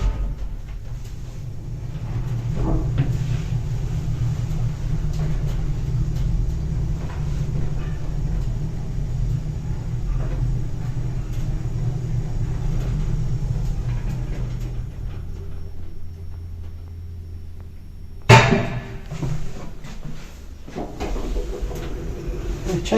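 An elevator driven by an Eco Disc motor hums and rumbles steadily for a long stretch, the low drone shifting as the car slows and levels, then a sharp clunk of the doors or stop near the end.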